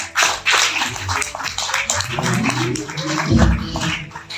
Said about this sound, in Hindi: मैं चाहूंगा उनके लिए भी जोरदार ताली होनी चाहिए